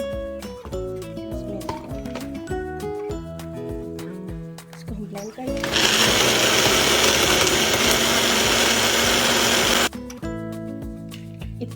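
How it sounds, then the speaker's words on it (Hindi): A blender grinds tamarind with cumin and crushed chili in a loud, steady whirring roar that lasts about four seconds, with tonal, music-like sounds before and after it. "इतना ब्लेंड करना है कि ज़ीरा और कुटी मिर्च बिल्कुल मिक्स हो जाए"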